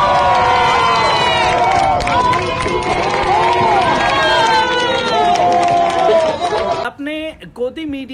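Journalists clap and cheer at a tower demolition: loud, sustained crowd shouting, cheering and applause that thins abruptly into scattered, closer voices near the end.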